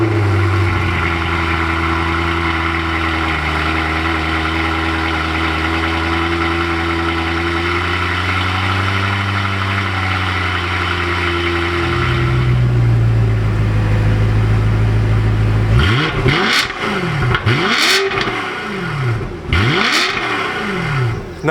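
BMW E92 M3 V8 with a custom exhaust, idling with a deep, steady rumble that rises slightly in pitch, then revved in several sharp, loud bursts that climb and fall back.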